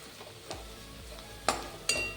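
Chili powder and turmeric fry in hot oil for chole, with a faint steady sizzle under scraping stirs and a few sharp clinks of a spoon on the pan.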